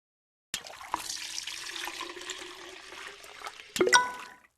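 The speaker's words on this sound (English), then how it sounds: "Pour the water into the stock pot." A gallon of water poured from a container into a stock pot of bones, a steady splashing stream of about three seconds that swells and gurgles toward the end, heard close with no talk.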